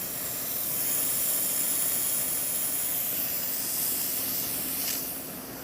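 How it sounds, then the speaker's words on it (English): Strong steady hiss from the steam wand of an Atomic espresso machine just after a full service tune-up, a continuous close jet of steam that holds level for several seconds and fades near the end. "Get nice strong steam."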